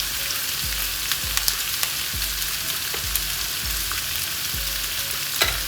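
Sliced onions sauté in oil with a pinch of salt, giving a steady close sizzle and crackle, with soft periodic scrapes as they are stirred in the pan; no talking.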